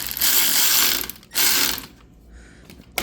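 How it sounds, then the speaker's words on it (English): A ratchet wrench tightens a nut on the expansion valve of a Mitsubishi Outlander, giving two loud, rapid clicking bursts close by, with a short pause between them, then a quieter stretch with faint handling noise. "All you gotta do right now is get your nut and then tighten it. We'll start with the ratchet."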